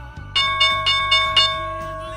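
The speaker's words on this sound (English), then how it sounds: "The bell has rung." An opening bell rings on a stock market broadcast: five evenly spaced metallic strikes with a sustained ringing tone, loud and close, over a steady low background hum.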